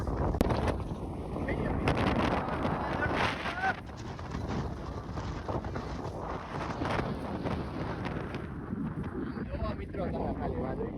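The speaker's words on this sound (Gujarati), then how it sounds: "મને તો ઉડાડી નાખે મિત્રો એવું વાવાઝોડું" Strong windstorm gusts roaring through heavy rain, loud broadband rushing and buffeting against the microphone throughout, with a person's voice talking intermittently over the noise.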